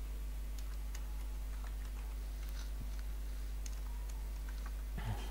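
Faint, irregular clicks of typing on a computer keyboard in Notepad, heard close over a steady low electrical hum, with no voices.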